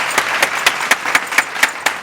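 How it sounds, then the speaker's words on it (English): Steady applause from a small group, with individual claps popping out at a fairly regular rhythm, close and moderately loud, with no voices. "It's a round of applause for Sister Serena."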